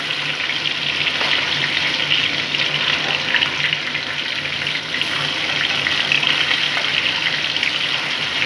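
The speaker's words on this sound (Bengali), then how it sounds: "এইভাবে আমি সব মাছগুলোকে ভেজে নিই।" Pieces of chital fish fry in hot oil for a Bengali fish curry, giving a steady, dense hiss and crackle that holds unbroken at close range with no voices over it.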